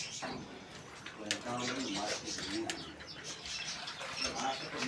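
Parrots and other birds in a home mini zoo at dusk, a mix of soft cooing, chirps and wing flaps at moderate distance, calls overlapping irregularly throughout.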